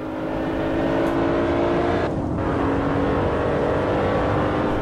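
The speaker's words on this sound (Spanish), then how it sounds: "los motores rugen con gran realismo" Race car engines roar steadily in the Assetto Corsa driving game, a loud continuous howl with a brief dip in pitch midway before climbing again, no voices over it.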